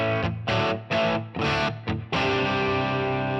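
Distorted electric guitar chords through a Line 6 POD Go amp modeler ring out in short bursts, then a final chord sustains; loud, saturated amp tone with no talking.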